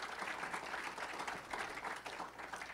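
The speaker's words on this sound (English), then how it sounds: "Let's give her another round of applause." Brief, faint applause rises from an audience at a Daemen College leadership event in Buffalo, a soft even wash of clapping heard from a distance.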